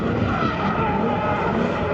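A BMW E36 drift car kicks into a slide at a pro drifting event, engine roaring loud and steady with tire squeal mixed into a dense, continuous wash of noise for the whole stretch.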